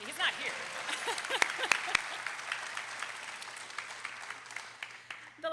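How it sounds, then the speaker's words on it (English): Scattered audience clapping at a university commencement ceremony, moderate and somewhat uneven, with a speaker's voice briefly heard over it. "you can clap for him, it's okay"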